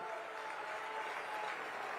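Steady crowd applause rings out at an outdoor public political meeting in Chandauli, Uttar Pradesh, a continuous dense clatter of many hands heard from a distance at low level.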